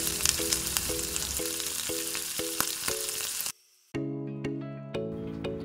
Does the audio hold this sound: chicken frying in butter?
yes